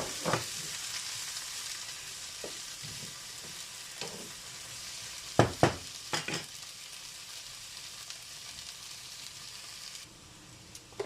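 Frozen peas frying with caramelized onions in a pan, a constant soft sizzle with occasional sharp clinks and scrapes of stirring, close and steady throughout.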